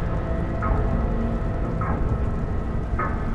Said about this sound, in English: I think that's the engine we're hearing.